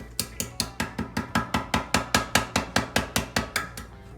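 A screwdriver turning a plastic toilet flush valve part makes a steady run of about twenty rhythmic ratcheting clicks, close and evenly spaced, with no talking.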